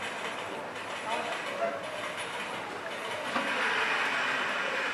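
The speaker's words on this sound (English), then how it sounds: "When the train pulled in," A train pulls into a station with a steady, moderately loud rumble and a faint rhythmic clatter of wheels on rails, and a murmur of indistinct voices runs beneath it.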